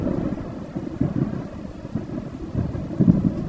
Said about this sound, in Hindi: तभी रास्ते में बहुत तेज बारिश शुरू हो जाती है।